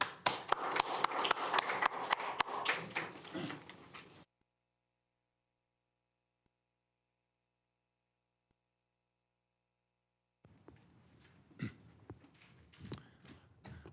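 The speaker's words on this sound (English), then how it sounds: "please help me welcome Stan on the stage with an applause" An audience in a lecture room applauds a speaker coming on stage with dense, even clapping for about four seconds. Near-silence follows before scattered taps and movement noises return.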